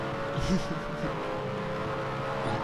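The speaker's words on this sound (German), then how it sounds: "Ey, Auto, hör auf mich zu überholen oder ich muss dich überholen." A racing car engine in the video game TrackMania United Forever drones steadily, with a brief rising rev as a car overtakes, under a murmuring voice.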